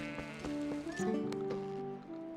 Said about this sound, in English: there's a goat going the wrong way